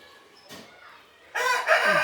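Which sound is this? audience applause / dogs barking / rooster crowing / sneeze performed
rooster crowing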